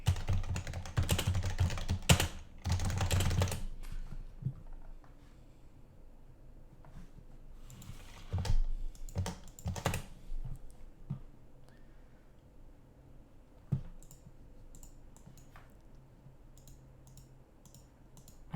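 Computer keyboard typing during a programming session on tinygrad with RDNA3 assembly and unstable AMD drivers, with dense bursts of key clicks at the start, then scattered keystrokes and louder taps, close and alone.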